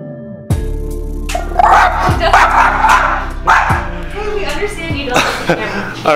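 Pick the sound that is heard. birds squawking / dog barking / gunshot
dog barking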